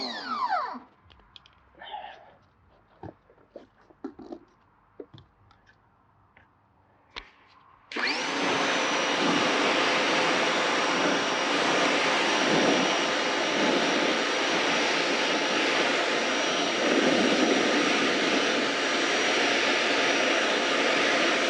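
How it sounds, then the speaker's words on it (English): Water rinses the whole tire in one loud, continuous hissing rush with a steady high whine. It follows several seconds of faint, scattered handling noises and carries on unbroken with no voices. "I'm going to rinse off the whole tire now."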